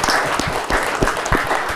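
A live audience at a Creative Talk event applauds the technical and photography crew, producing a short burst of steady, dense clapping with a few sharper claps standing out.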